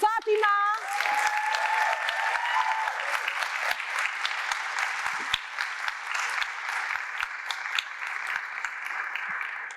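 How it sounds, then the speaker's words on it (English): Audience applause fills a Hispanic Heritage Month celebration, steady sustained clapping from a large crowd at moderate distance, continuing evenly for the whole stretch after a brief opening voice. "Everyone, please join me in giving a big round of applause to Fatima."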